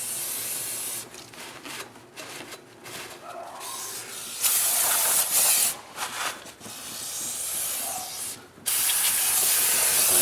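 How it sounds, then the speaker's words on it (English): Brake cleaner sprayed over the drum brakes of a 2002 Jeep Liberty, a loud aerosol hiss in several long bursts with short pauses and faint rubbing between them, no voices. "get yourself some brake clean. Spray everything down."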